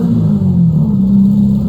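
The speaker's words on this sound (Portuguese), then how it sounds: "Agora então vou manobrar, vou deixar o carro aqui para o Guilherme pegar então" A 1975 Volkswagen Kombi van idles and is eased along while being maneuvered, a close, loud, low rumbling engine note holding steady with slight swells.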